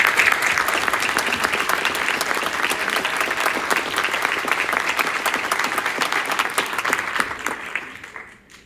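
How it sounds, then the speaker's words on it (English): An audience at a school awards ceremony applauds students, a dense, loud burst of many hands clapping that holds steady for several seconds before tapering off. "let's give them a round of applause"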